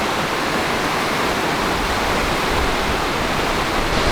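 The big waterfall on the Ring River track to Montezuma Falls in Tasmania roars loud and constant, a dense unbroken rush of falling water with no voices.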